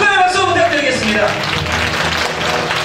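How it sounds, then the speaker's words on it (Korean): Steady, dense applause from an audience at an international peace press awards ceremony fills the clip, with a voice speaking over the start. "여러분 축하의 박수 부탁드리겠습니다."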